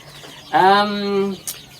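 A free-range village chicken gives a single drawn-out, nasal cluck, loud and close, followed by a brief click and quiet outdoor background.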